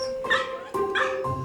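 Noisy Bailey, a dog just off a long flight from Australia, barks in an airport kennel. There are three sharp, loud barks in quick succession, close and echoing in the enclosure, with no speech.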